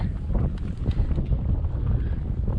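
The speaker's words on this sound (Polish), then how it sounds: "Bardzo wieje wiatr." Strong wind buffeting the microphone on the Tongariro Alpine Crossing, a constant heavy low rumble and roar with gusty fluctuations throughout.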